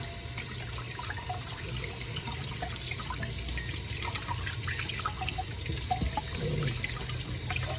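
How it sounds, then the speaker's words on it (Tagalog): Raw chicken is rinsed under a running tap, with a steady stream of water splashing continuously at close range and small spatters and clinks scattered throughout. "So rinse it very, very well."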